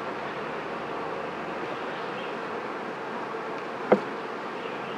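Honeybees hum during a beehive inspection on a low-nectar dearth day. A dense, steady swarm drone runs throughout, with a single faint click near the end.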